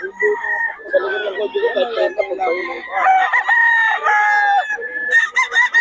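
A yellow-legged hatch gamefowl rooster crows in several long, close, loud calls with brief clucking between, at a dim early-morning market.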